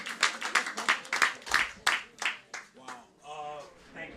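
Audience clapping at an art and music event, a sparse round of distinct hand claps that thins out and fades, ending with a voice speaking.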